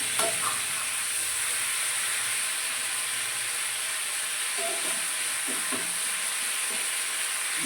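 Fish fries in sesame oil, giving a steady, close hissing sizzle with a few soft stirring scrapes throughout, and no one speaks.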